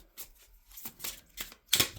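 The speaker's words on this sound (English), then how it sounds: "just by giving it a quick shuffle" Tarot cards given a quick shuffle, heard as four or five sharp papery riffles spaced in short bursts, close and fairly quiet with silence between.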